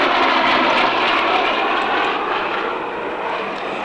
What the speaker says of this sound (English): the Blenheim coming in over the top of it